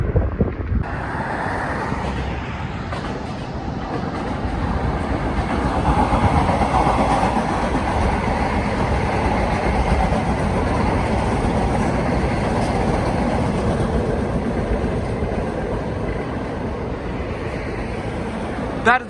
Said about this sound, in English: That is a bit more like how fast the train should be going right now.